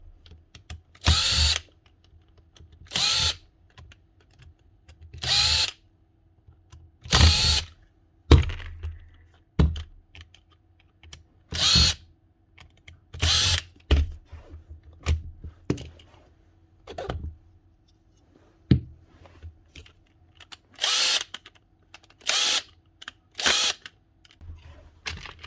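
A Makita power tool under repair is started in short bursts, about a dozen loud whirring spurts of a few seconds each, separated by pauses with clicks and clunks of handling.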